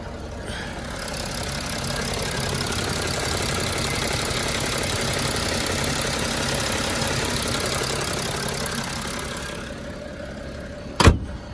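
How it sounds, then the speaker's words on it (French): A BMW E92 335d diesel on a road test after an EGR hose repair and leak fix gives a steady, droning engine and road noise that eases off near the end, followed by a sharp thump like a door closing. "je suis parti faire un test routier. Voir si tout se passe bien sur la voiture"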